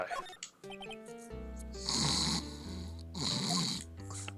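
A man playfully imitates snoring with his voice during a Phoenix Wright: Ace Attorney Trilogy game stream, producing two long, loud rasping snore swells over game music.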